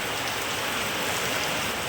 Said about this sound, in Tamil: மழை வேற பெஞ்சிட்ருக்கா